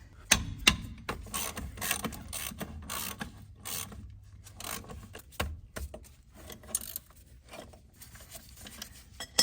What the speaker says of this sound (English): Got to get the caliper bolts out here. All right, that's a 17 millimeter, which looks like the brake line's on this side, so I'll use a wrench for the top.